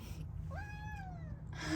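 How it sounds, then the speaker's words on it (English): A domestic cat gives a single drawn-out meow that rises and then slowly falls. It sounds faint and a little distant, set against a low steady hum in the room. "she's meowing in the background"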